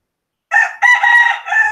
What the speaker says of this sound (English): that is my cock there crowing